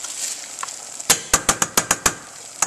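A spoon stirs finely chopped crispy bacon into melted cream cheese, giving about seven sharp, close scraping taps in a quick, uneven rhythm after a soft hiss.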